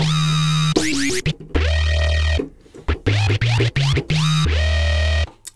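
A harsh, screeching synthesizer preset in Xfer Records Serum plays choppy notes and pitch-swooping sweeps, loud and buzzy, with brief gaps between bursts.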